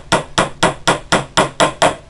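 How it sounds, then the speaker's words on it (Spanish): Hammer driving a nail into a loom comb being built by hand, eight evenly spaced sharp strikes in a steady rhythm, close and loud. "y con el martillo,"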